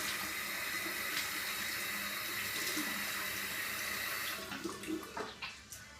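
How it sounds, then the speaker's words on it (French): Tap water running steadily into a sink for rinsing after a traditional wet shave, a close continuous rush that cuts off near the end, leaving splashes and drips. "on passe au rinçage."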